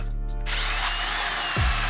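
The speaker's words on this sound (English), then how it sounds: "Get a drill and a bit, and just drill right on the middle." A power drill whines steadily at close range, boring through a car's sheet metal body panel, with a low grinding thump near the end as the bit breaks through.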